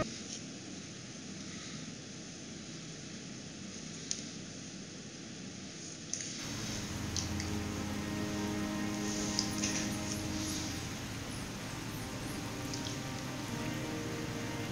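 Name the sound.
rain in a video game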